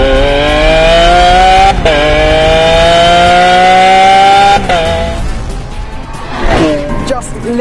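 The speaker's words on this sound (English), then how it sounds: "Just listen to that shrieking V12." A shrieking V12 car engine revving hard through rising gears, loud and close, with brief gaps at each shift before the high-pitched wail eases off and a voice talks near the end.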